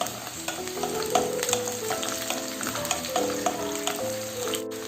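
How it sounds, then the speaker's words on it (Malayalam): Chili, garlic and a small piece of ginger fry in a pan, giving a continuous close sizzle broken by a spatula scraping and clinking against the metal. "പിന്നെ ഇതിലേക്ക് ഒരു മുളക് ഇട്ട് കൊടുക്കാം. പിന്നെ ഒരു 3-4 ചോള വെളുത്തുള്ളി, ഒരു ചെറിയ കഷ്ണം ഇഞ്ചിയും കൂടെ ഇട്ട് കൊടുക്കാം"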